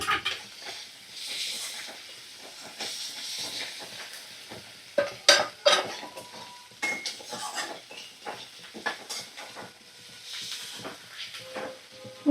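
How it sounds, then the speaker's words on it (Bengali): Spices with ginger-garlic paste sautéed in a pan over medium flame: a soft continuous sizzle broken by repeated scrapes and clinks of a spatula against metal, with a few sharper knocks midway and no voices. "সমস্ত মশলা আমি ভালো করে কষিয়ে নেব।"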